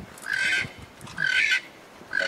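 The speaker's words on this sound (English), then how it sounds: "That's the yellow neck puffer. Oh wow, he's loud." Yellow neck puffer bird giving loud, harsh honking calls, three bursts in quick succession, close and clear with no talk over them.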